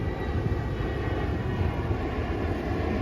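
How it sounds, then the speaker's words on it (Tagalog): An airplane passes overhead in the sky, a broad steady roar of engine noise that holds evenly throughout, loud and continuous with no voices. "Kung makikita mo sa langit, may lumilipad na eroplano."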